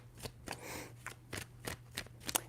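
Tarot cards being shuffled, a series of crisp riffling and slapping bursts at irregular intervals over a low steady hum, close and quiet, with no talking.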